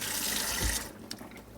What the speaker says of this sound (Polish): Delikatnie ją opłukam zimną wodą.